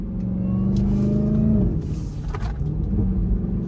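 A deep V8 engine in a Dodge Hellcat rumbles and revs up and down close by, a steady throaty roar throughout.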